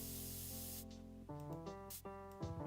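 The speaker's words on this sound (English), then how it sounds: "I like that sound effect for the how do you call it, the spray can." A spray can sound effect in the video game I'm not a Robot, heard as short hissing sprays over a steady game tone.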